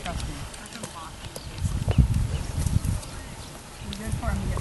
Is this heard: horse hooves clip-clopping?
yes